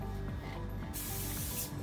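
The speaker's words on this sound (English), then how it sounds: "you're gonna be able to tell when you need to spray the cloth again" A spray bottle mists a cleaning cloth while an elevator is being detailed. A short mechanical click of the trigger is followed by a sharp, close hiss of spray.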